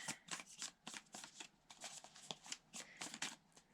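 A deck of mystical shaman cards is shuffled by hand in quick, riffling bursts. The crisp rustles and flicks repeat in an uneven rhythm, close and quiet.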